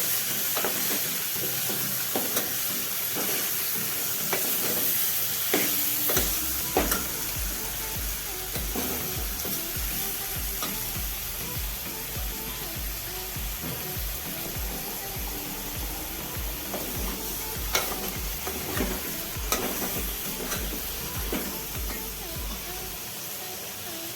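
Chicken fries in a pot with coriander powder and turmeric, giving a steady sizzle with scraping stir strokes throughout, loud and close, with occasional knocks and no talk.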